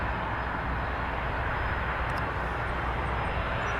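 A Jazz airliner takes off from runway 23 at Toronto Pearson, its steady broadband engine roar filling the air without a break, loud and continuous with no voices.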